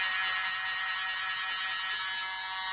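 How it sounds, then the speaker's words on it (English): A small electric blower used on wet acrylic pour paint whirs with a steady, close, airy hiss, running continuously without pause for the whole stretch. "Got my little blower out."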